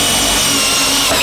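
A power drill runs steadily, loud and close, boring an enlarged hole during a waste oil boiler stove build, one continuous burst with no talk.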